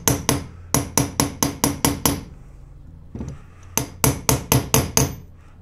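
A hammer strikes an outer bearing race, seating it into a BMW E36 188 differential, with sharp metallic blows in quick bursts, a brief pause, then another run of hits, close and loud with no talking.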